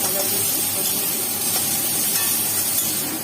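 Onions frying in a pan on the stove give a steady, loud, dense sizzle and hiss that holds without pause throughout, close up and with no talking.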